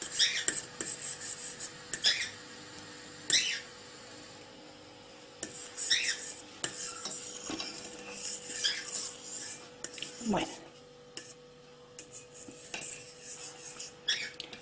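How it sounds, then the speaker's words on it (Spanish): A spoon stirs a natural fruit dessert mixture in a bowl, giving repeated scraping and rubbing strokes with small clinks, fairly close and steady over several seconds. "Y la revolvemos bien"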